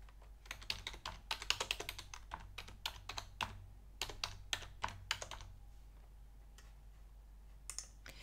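Quick bursts of keystrokes on a computer keyboard as a web address is typed, with crisp, close clicking in uneven runs and short pauses, and no talking.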